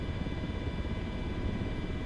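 Steady whirring rotor and engine drone of an MH-60 helicopter in a flight simulator, an even, unbroken hum at moderate level with no voices.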